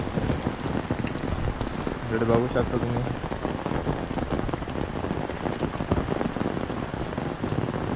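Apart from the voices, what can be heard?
heavy rain with wind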